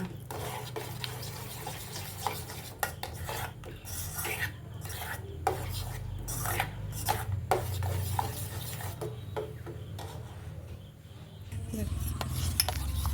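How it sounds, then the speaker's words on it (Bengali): A neem soap paste mixture is stirred in a bowl, giving soft scraping and rubbing strokes with light clinks of a utensil against the sides, close and fairly quiet over a low steady background hum. "এটা দিয়ে কিন্তু এবার ভালো করে নেড়ে দেবো"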